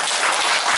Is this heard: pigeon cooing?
no